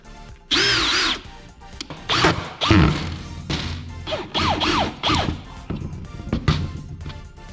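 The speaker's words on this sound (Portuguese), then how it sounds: "vamos lá então aqui experimentar apertar uns parafusos." A Parkside power drill drives screws in a series of short whirring bursts that rise and fall in pitch, with clunks and knocks between runs. The drill is close and loud.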